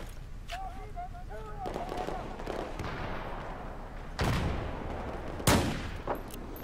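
Video game gunfire cracks out as a few sharp, separate shots over a low background din, with a commentator talking throughout.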